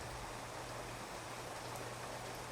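Steady, even patter of rain falling on a hard surface, continuous and soft throughout with no voices.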